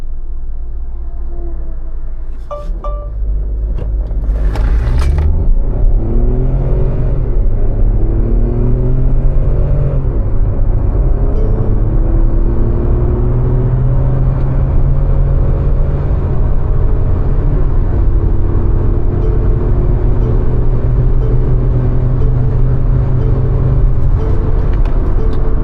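Tata Curvv petrol with a dual-clutch automatic in sport drive mode accelerates, its engine droning loud and steady as rising whirring tones climb through the gears, after a brief mechanical clunk early on.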